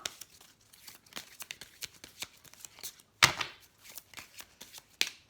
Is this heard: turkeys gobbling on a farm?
no